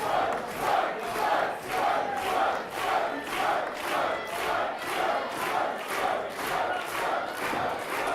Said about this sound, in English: Swerve tapping into the energy that is the crowd here